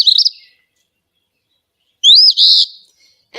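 Two-note calls from an Eastern Phoebe flycatcher: a short burst, a long pause, then a louder, nearer double phrase, clear and isolated against silence.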